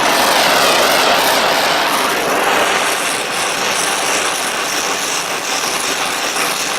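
Torch flame preheating a cast iron part clamped on a bench before stick welding, a loud, steady close roar of burning gas with no break.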